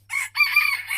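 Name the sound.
Olandsk dwarf rooster crowing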